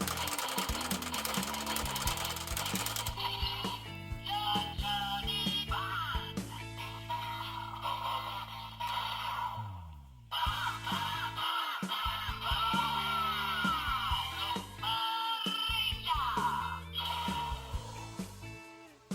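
A DX Zenkaiger toy belt's electronic sound effect plays loudly over its crank being turned: buzzy, stuttering tones in bursts, briefly pausing before resuming.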